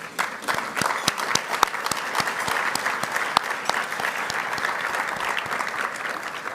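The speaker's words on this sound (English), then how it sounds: "Let's give them a big round of applause." A luncheon audience gives a big round of applause for the CHCI staff, dense clapping from many hands with sharp individual claps standing out, sustained and even across the whole stretch.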